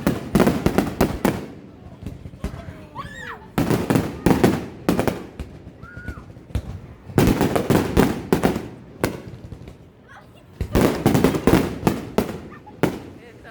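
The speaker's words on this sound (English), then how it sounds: "the footage of the fireworks are a little crazy" New Year's fireworks at Myrtle Beach bursting in loud clustered volleys of sharp cracks and booms, with quieter gaps between barrages and a few whistling rockets rising, while voices murmur faintly in the background.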